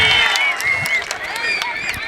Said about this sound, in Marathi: टाळ्या करा टाळ्या.